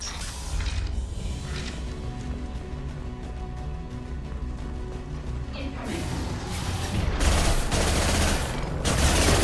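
Gunfire from the video game Mass Effect arrives as a dense, continuous stream of mechanical, rattling shots, heard fairly loud, and grows harsher and more intense in the last few seconds.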